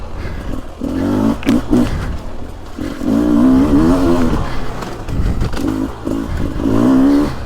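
Two-stroke 2023 Husky TX300 or Beta 300 Race Edition dirt bike engine revving on a woods trail, loud and close, with rising and falling throttle blips and roaring surges in second gear.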